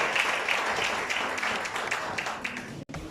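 A church congregation claps and applauds steadily for about three seconds. The applause is dense, close and continuous, then cuts off abruptly at the end.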